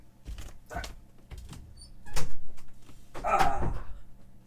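Door being closed indoors, heard as a series of close knocks and thumps with a louder wooden bump partway through and a rattling closing sound near the end, with no speech.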